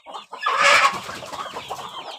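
Chickens on a poultry farm in Khammam cluck up close: a burst of loud, agitated squawks followed by softer, broken clucking with no talk.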